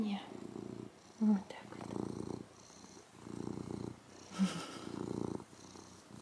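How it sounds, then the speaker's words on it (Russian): A cat purrs close by in the morning, a steady rumbling murmur swelling and fading in long breaths, with someone speaking softly over it now and then. "Мурлыканье."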